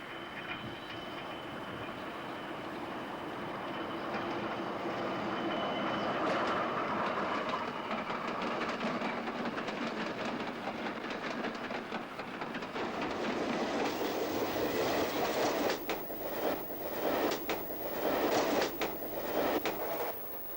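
Swing door, Tait and Harris suburban electric trains rumble past with a steady roar and rhythmic clickety-clack of wheels that grows louder toward the end, with no voices.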